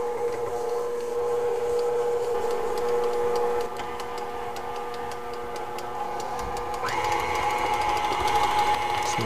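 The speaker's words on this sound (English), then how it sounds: "Go ahead and blend this until smooth" A kitchen blender purees pumpkin cheesecake ingredients until smooth, making a steady motor whine with light rattling ticks; partway through the pitch steps up higher and the whirring carries on at that level to the end.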